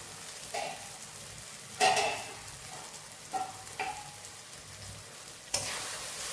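Tomato frying in a pan with its lid on, a soft continuous sizzle broken by several louder clanks and scrapes as the lid and spoon move, close by with no talking.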